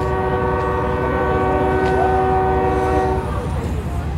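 A CSX freight train rumbles past close by with a steady, loud drone and a long sustained horn blast that fades out near the end.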